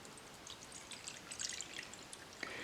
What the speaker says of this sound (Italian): prendere l'acqua ed andare a riempire la bacinella